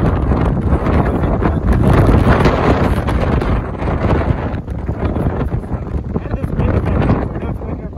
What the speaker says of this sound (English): Did this wind affect anything?